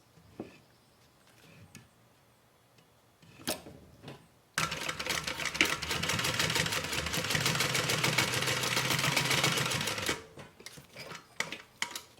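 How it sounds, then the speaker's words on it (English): Sewing machine stitching both ends of a thigh bag with a half-inch seam allowance, running in one steady loud burr for about six seconds. Scattered clicks and handling noises come before and after the run. "we're just going to stitch the ends on both ends"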